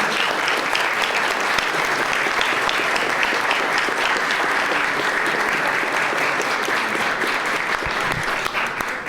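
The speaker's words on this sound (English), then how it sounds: "a short round of applause" Warm applause from an audience at a Bulgarian National Day reception in Washington DC, welcoming violin performer Julia Angelov. The dense, steady clapping runs throughout and fades slightly at the end.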